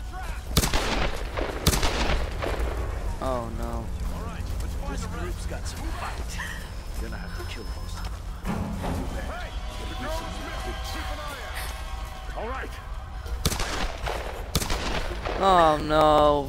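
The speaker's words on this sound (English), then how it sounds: "Why are you shooting people?" Gunfire in Tomb Raider Definitive Edition, with sharp loud shots at the start and again near the end, among game effects and dog-like barks, while people talk over much of it.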